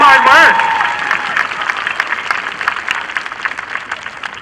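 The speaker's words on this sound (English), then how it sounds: "How about one more round of applause for all those honors graduates" A graduation crowd at Melrose High School gives a round of applause for honors graduates. Dense, steady clapping fills the space after a brief voice at the start.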